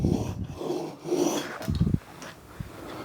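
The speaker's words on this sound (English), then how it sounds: "take your stone here, and then you just put nice even pressure on it." A chisel is drawn across a wetted whetstone under even pressure, giving several rough rasping strokes in rhythm, close and moderately loud, with pauses between passes.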